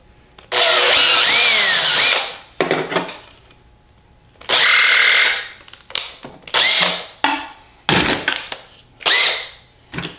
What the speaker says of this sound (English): Then I finish the drilling from inside.